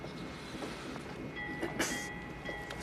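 A train runs along rails with a steady rolling rumble, plus a brief sharp squeal or clatter partway through, heard at a moderate distance without voices.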